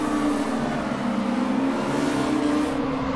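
A Volkswagen Scirocco Group 2 race car in RaceRoom Racing Experience pulls away from a standing start at Brands Hatch, its engine droning steadily and loudly with a sustained, even tone and no break.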